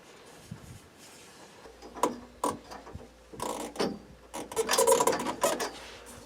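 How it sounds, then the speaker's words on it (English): Metal EMT conduit fittings being tightened inside an electrical box for a solar panel installation: close, irregular metallic clicks, scrapes and ratcheting rubs, with no talking. "put the metal adapters down at the box, and I just gotta tighten them inside the box"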